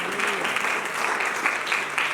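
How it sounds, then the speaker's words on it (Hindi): An audience at a motivational talk breaks into brief, full applause, a short burst of many hands clapping at steady strength with no voices. "जोरदार तालियां चाहिए।"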